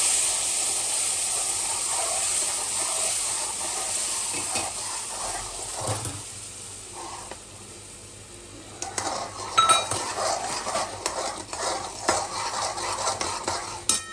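Semolina roasting in a pan as boiled water is poured in and stirred, with saffron and sugar among the ingredients: a steady sizzle with spoon scrapes and light clinks, turning busier and louder in the second half.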